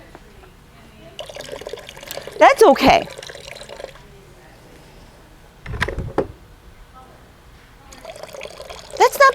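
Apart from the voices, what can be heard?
water pouring from a handmade ceramic teapot spout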